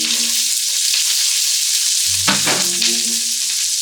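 Peppers, celery and onions sautéing in a pot for jambalaya, making a loud, steady close sizzle, with a brief clattering stir and a low knock partway through.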